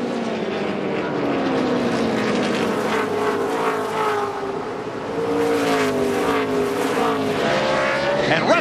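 NASCAR stock cars roar at the 2005 Chevy American Revolution 400, a loud, continuous engine drone with pitch sweeping up and down as cars race past, with faint crowd and track noise beneath.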